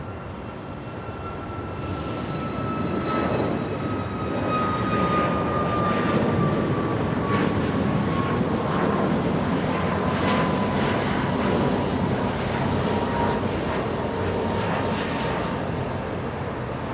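Boeing 787-9 Dreamliner jet at LAX airport, a loud, sustained engine roar with a whining tone gliding slowly downward as it passes, steady throughout with no talk.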